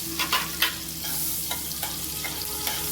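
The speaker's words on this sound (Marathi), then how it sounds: "मी आता तेल गरम केलं आहे, थोडंसं बटर घालणार आहे" Butter sizzles as it melts into hot oil in a pan, a steady close hiss broken by a few soft crackles and light scraping.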